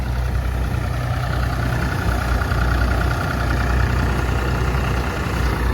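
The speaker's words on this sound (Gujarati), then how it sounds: "સામેથી જોવો ટ્રેક્ટર આવે છે" A tractor engine runs steadily in a farm field during a groundnut harvest, a loud, continuous low rumble with a throbbing idle-like texture that stays close and constant.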